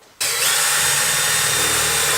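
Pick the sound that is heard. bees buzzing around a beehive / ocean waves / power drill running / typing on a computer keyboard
power drill running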